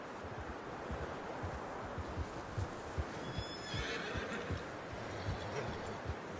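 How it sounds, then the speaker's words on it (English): A horse in the video game Red Dead Redemption 2 gives a clear whinny amid steady clip-clop hooves and rustling, with the hoofbeats thudding rhythmically close by throughout. "How's that new horse?"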